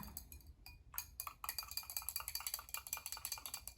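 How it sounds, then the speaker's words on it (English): Homemade hibiscus and matcha clarifying shampoo ingredients, warm with a hibiscus hydrosol, whisked briskly in a bowl, giving a steady run of close, rhythmic clinking strokes against the container after a few scattered taps. "So now let's just whisk together."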